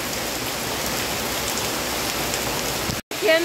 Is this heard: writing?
no